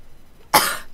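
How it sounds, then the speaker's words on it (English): A single sharp cough, close and loud, bursting out after a near-silent moment and trailing off quickly. "cough again?"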